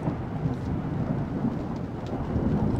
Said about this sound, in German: Dieses Gewitter hört auch einfach nicht mehr auf.